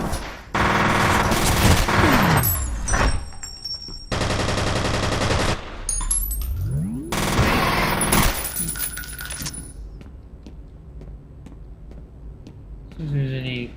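Video game gunfire from F.E.A.R. comes in loud, rapid automatic bursts separated by quieter stretches, with metallic clinks and shell-like rattles between volleys.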